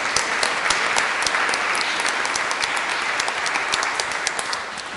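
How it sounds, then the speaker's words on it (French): A church congregation at Mass applauds a newly confirmed person, with rapid crisp claps that are steady and full before thinning slightly at the end. "Il faut l'applaudir hein, parce qu'ils ont fait un travail."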